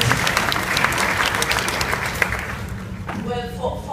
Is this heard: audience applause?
yes